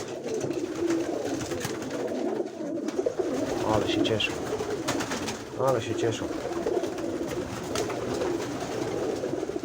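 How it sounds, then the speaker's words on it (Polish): Pigeons coo back at their home loft in soft, repeated throaty calls amid a busy flock, while someone speaks nearby over the birds. "Jak widzicie, ptaki są."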